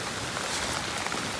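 Rain pours down near an overflowing irrigation channel, a dense, steady hiss of falling water filling the moment without voices.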